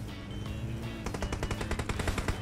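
Gunfire in the battle-royale game PUBG Mobile: a few scattered shots early, then a rapid automatic burst of evenly spaced cracks through the second half, close and fairly loud with no speech.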